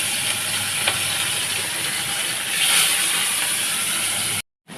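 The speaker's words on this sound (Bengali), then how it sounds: "3 পিস মাছ আছে, ভাজা বসিয়ে দিচ্ছি।" Three pieces of fish fry in a pan of oil, giving a loud, continuous close-up sizzle and hiss that swells briefly midway, then cuts off abruptly before resuming.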